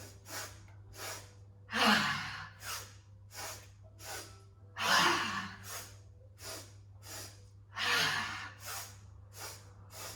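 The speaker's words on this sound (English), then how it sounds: "Exhale through the mouth." Repeated forceful exhalations through the mouth during a yoga breathing exercise, three strong gusty breaths spaced a few seconds apart with softer quick nasal breaths between them, close and clear over a low steady hum.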